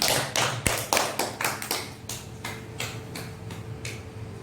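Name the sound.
applause for group 2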